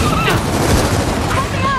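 Dense gunfire in Gears of War 4 aimed at a creature's stomach, a continuous loud barrage of shots under frantic shouting, with no pause across the whole stretch.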